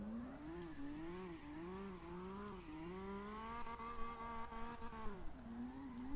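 A Toyota Supra drift car modelled on the HKS build revs continuously in CarX Drift Racing, its engine tone wavering up and down through a slide, faint and steady with no talk.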